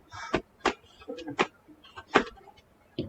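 Utility scissors snip through chicken wire in a series of about eight quiet, sharp clicks at uneven intervals, each cut brief and metallic with little else around it.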